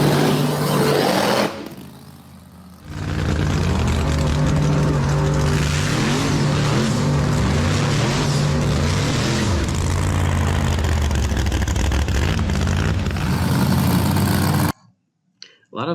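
A car's engine roars at high revs through a throttle-happy burnout, with screeching tires, dropping briefly around the two-second mark before surging back loud and sustained, then cutting off abruptly near the end.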